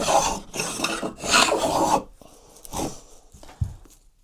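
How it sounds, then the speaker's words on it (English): An 80-year-old refurbished block plane pushed across rough, cross-grained wood, giving loud raspy scraping strokes, three long passes followed by shorter, fainter ones, close up with no talking. "I've now got a working block plane. It's not perfect, and it makes a heck of a noise going across this horrible bit of wood"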